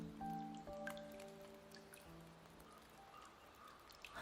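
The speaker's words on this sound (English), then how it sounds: "You can hear the rain." Soft rain patters steadily through a rainy scene in the video game Wuthering Waves, quiet and diffuse, with a few sustained tonal music notes ringing over the drops early on.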